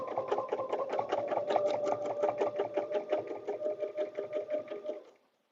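A sewing machine stitches a paper-pieced butterfly dresser scarf with a rapid, even mechanical rattle that runs steadily, then slows into distinct pulses before stopping abruptly.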